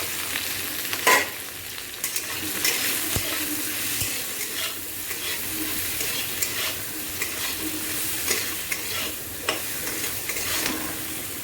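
Okra sizzles steadily in hot oil with salt and turmeric, with occasional scrapes and stirs of a utensil against the pan.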